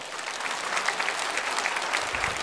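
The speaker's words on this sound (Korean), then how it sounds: "우리교회 처음 온새 가족을 박수로 환영하겠습니다" A church congregation at a Sunday worship service claps to welcome newcomers, an even, sustained roomful of hands with a few sharper claps standing out, steady and unaccompanied by speech.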